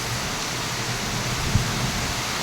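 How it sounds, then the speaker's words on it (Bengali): Heavy rain falls steadily outside a balcony as a dense, even wash of noise with no voices, after a spell of hail. "কিন্তু আজকের বৃষ্টিটা দেখো।"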